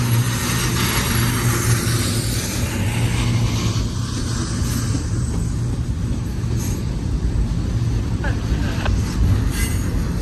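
A BNSF freight stack train led by a GE ET44C4 locomotive rumbles past nearby heading west, loud and continuous, with heavy low rolling noise, rattling cars and occasional wheel squeals.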